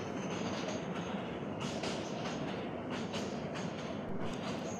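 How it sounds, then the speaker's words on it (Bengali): A train rumbles steadily across an iron bridge, loud and close, with rhythmic wheel clatter and metallic rattling throughout. "লোহার ব্রিজের উপর যখন ট্রেনে যাচ্ছিল"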